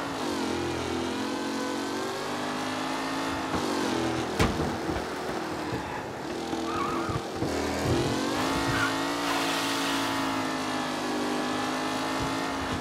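Race cars in Mafia: Definitive Edition roar continuously at close range, engines revving and shifting in layered harmonic drones as the pack jostles, with occasional tire squeal and passing whooshes.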